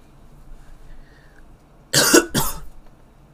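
Two sharp coughs in quick succession, close and loud, after a quiet stretch.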